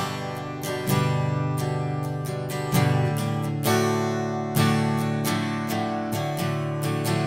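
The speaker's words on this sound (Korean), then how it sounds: "브릿지랑 가까우면 좀 딱딱한 소리." An acoustic guitar strummed near the bridge in firm, bright open chords, a few repeated strokes ringing out with a crisp, hard edge; no talking.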